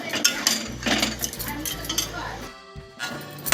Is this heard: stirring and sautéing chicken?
yes